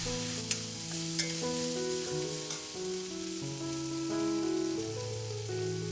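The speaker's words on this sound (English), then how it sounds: "add a little bit of water as you go along. Just enough to scrape off whatever is stuck" Paneer pepper fry sizzles in a pan as a splash of water is added and the bottom is scraped, a soft steady frying hiss with a couple of light knocks, under quiet background music.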